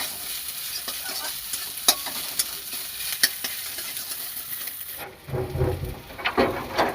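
Egg and soybean fry in a pan for fried rice, a steady close sizzle with clicking spatula strokes, then the hiss drops away and low rustling stirring follows.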